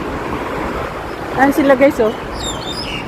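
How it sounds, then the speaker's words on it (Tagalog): A few short bird chirps rise briefly over a steady outdoor wash of water or wind at Victoria yacht harbour, Causeway Bay, Hong Kong, with a person speaking nearby. "Narinig nyo yung huni ng ibon?"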